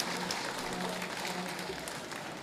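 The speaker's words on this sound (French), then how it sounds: "encore une fois, un chaud applaudissement pour le ministre de la Santé, Dr Sinal Bertrand." Audience at a public health official's installation ceremony applauding the Minister of Health, a steady wash of many hands clapping, distant and fairly quiet, continuing evenly throughout.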